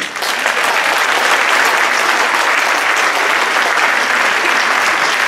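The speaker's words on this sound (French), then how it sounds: "je vous demande de l'applaudir" At a mayor's New Year reception before a French Cup round-of-32 match against LOSC, a crowd gives the club's sporting director a sustained, even burst of loud applause with no pauses.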